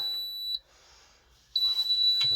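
Two short, high electronic beeps about a second apart, ringing out clearly over a faint background hum.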